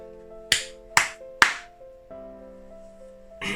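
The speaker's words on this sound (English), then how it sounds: "3 claps in succession." Three sharp hand claps in quick succession, evenly spaced and close, followed by a sustained tonal hum and a softer fourth impact at the end.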